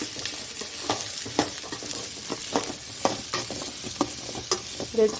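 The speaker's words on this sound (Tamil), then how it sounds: "இப்போ இந்த சமயத்தில் நம்ம வெட்டி வச்சுருக்க வெங்காயத்தை சேர்த்துக்கலாம்" Chopped small onions and big onions stirred and frying in hot oil for a Tamil dry fish curry, a steady close sizzle broken by frequent scraping stirs, with no voices.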